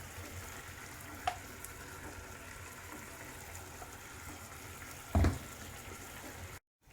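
Capsicum sizzling in hot oil in a pan, a faint continuous hiss with a brief sharp clatter near the end, then sudden silence.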